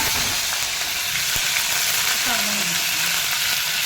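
Curry leaves and chana dal sizzle and crackle in hot oil in a pan while radish chutney is being made, giving a steady close frying hiss with a brief stir partway through.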